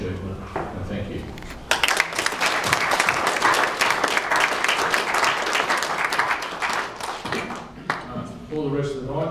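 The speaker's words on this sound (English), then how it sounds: "give yourself a round of applause" Audience applause fills the room for several seconds, dense and steady, with talking audible before it starts and again as it fades.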